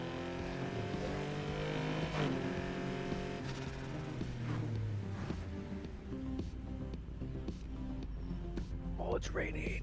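A damaged car engine in a racing video game revs and whines in long rising and falling harmonic tones, steady and prominent, while players chat over it.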